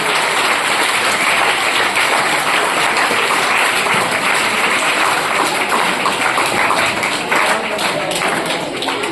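Loud, dense applause from a class of students at the end of an acupuncture training session, a steady crackle of many hands clapping that holds for about nine seconds without a break.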